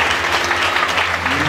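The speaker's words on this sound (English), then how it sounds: "Clap for Jesus, not Pastor, please." Steady, dense applause from a church congregation clapping together, loud and close, filling the short moment without a break.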